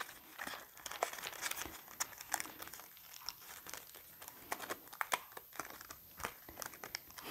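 Thick paper loosened from a die-cut stamping, a series of soft crinkling and tearing rustles with irregular sharper crackles, close and quiet, continuing throughout.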